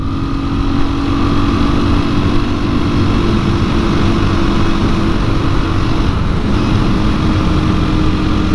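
A 2021 KTM 500 EXC-F dirt bike with an uncorked engine runs under hard throttle, producing a loud, steady, buzzing drone with wind rush and no pauses.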